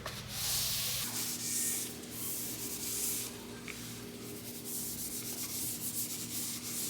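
Edges of a piece of furniture being sanded by hand with a sanding sponge during refinishing: a soft, continuous rhythmic rubbing and scratching, close and fairly quiet, with a faint steady hum underneath and no talking.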